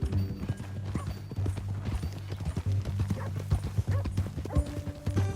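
Horse hooves clip-clopping steadily in Red Dead Redemption 2, a brisk repeating gait close by over a low musical bed, with a brief whinny-like sound in the mix.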